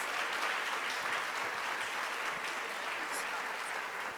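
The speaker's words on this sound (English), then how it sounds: "give our Gender Equity Commission and Pitt team a round of applause" Steady audience applause after a gender equity report presentation, a continuous even wash of clapping that sounds somewhat distant and muffled.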